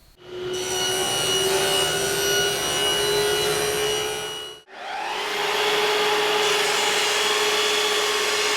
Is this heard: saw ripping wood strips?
yes